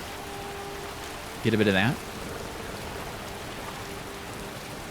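Steady rain falls in the video game Skyrim, a constant hiss lasting the whole stretch, with a short burst of speech briefly rising over it.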